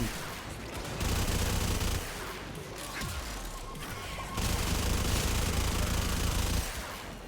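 Rapid sustained gunfire from a high fire-rate weapon in the video game Warframe, a dense crackling stream in long bursts with brief pauses between them, loud and close.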